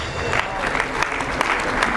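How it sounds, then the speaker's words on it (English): Audience applause at a junior high school prize-giving day in Nairobi, sustained clapping from a seated crowd with scattered sharper claps standing out, a voice faintly audible under it. "Round of applause, ladies and gentlemen."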